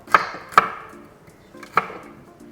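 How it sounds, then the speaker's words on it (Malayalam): Ginger and garlic are chopped with a knife on a board in a home kitchen, three crisp separate strikes spaced unevenly, close and clear. "ഇഞ്ചിയും വെളുത്തുള്ളിയൊക്കെ അരിഞ്ഞുകൊണ്ടിരിക്കുകയാണ് കേട്ടോ"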